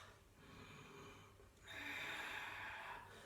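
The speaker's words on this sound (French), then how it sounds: "Et je respire." A deep, forceful exhale during a Pilates breathing exercise. It comes as a breathy rush of air that swells midway and holds for over a second, with no talking.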